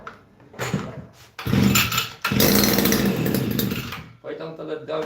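A two-stroke chainsaw on full choke is pulled to start, giving a couple of short bursts of sputtering engine noise that catch briefly and then die. A person talks in between the attempts.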